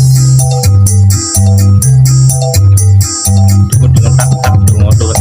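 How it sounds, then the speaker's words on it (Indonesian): Punchy kendang hand-drum loop with deep low strokes and sharp slaps in a steady repeating groove, layered with bright percussion, loud and continuous. "Ini adalah gendang yang bunyinya tadi bunyi jep,"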